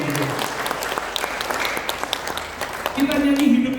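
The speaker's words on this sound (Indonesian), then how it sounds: "Tepuk tangan yang beriman." Church congregation clapping during a worship service, a dense patter of hand claps with music and voices mixed in, rising again toward the end.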